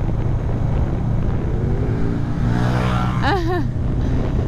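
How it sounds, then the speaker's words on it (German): A motorcycle pulls a wheelie at a fuel stop and rides off, its engine rising in pitch through quick rev sweeps near the end, heard over constant loud wind and road roar from a moving bike. "so eilig kann das mit dem Tanken nicht haben, wenn er danach so einen Wheelie davon zieht"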